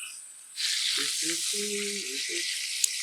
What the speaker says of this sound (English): that's already a nice sear